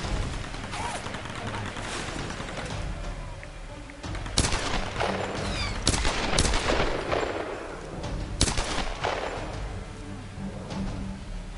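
Gunfire in Tomb Raider: Definitive Edition on PS4, with loud, sharp shots in irregular bursts, some in rapid clusters, over a constant rumbling background of game noise.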